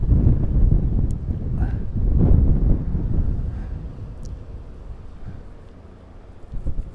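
Wind gusts buffet the microphone at the Speonk Long Island Rail Road station, heavy low rumbling bursts rising and falling in waves, strongest early and easing toward the end.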